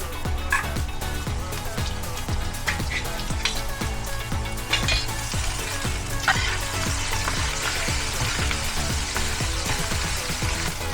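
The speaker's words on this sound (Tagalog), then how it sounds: "Gigisa lang natin siya for 1 to 2 minutes." Liver spread sautéing in a pan for bagnet paksiw, giving a steady close sizzle and frying crackle with occasional stirring scrapes and clinks throughout.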